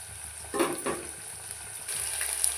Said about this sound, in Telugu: ఇవన్నీ నూనెలో గోలాలి ఒక 5 నిమిషాలు.